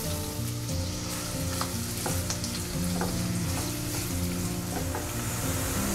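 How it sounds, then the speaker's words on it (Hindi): Chopped onion frying in oil in a kadhai over low heat, a dense loud sizzle with continuous scraping and clinks of a spatula stirring, close-up and unbroken. "प्याज को हमने धीमी आंच पर लगातार चलाते हुए अच्छा ब्राउन होने तक भून लिया है"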